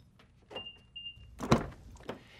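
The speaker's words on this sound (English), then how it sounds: "the vehicle automatically unlocks" A Mitsubishi RVR's doors unlock via keyless entry after the door-handle button is pressed: a faint whirring hum, then a sharp mechanical clunk of the locks with a couple of softer clicks around it, quiet and close.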